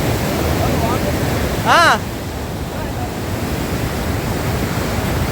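Waves wash onto a beach in a continuous, fairly loud rush of surf with wind buffeting the microphone, and a short whistle-like chirp cuts through briefly near the middle.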